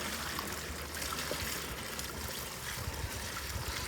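A bucket of water being poured, a steady rushing, splashing flow that stays fairly even and moderately faint throughout, with no talking.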